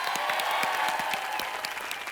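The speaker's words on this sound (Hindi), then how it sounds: "जोरदार तालियां हो जाए।" Studio audience on a TV comedy show giving loud, sustained applause, dense clapping from a full crowd filling the whole stretch at close range.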